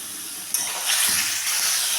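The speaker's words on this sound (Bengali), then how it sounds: "সেই সাথে আমি কাঁকরোলটাও দিয়ে দেবো, দিয়ে এবার একটু ভাজতে থাকবো।" Kakrol (bitter gourd) goes into a pan of spice paste and fries with a sudden loud, broad hiss that stays steady and close, with no talking.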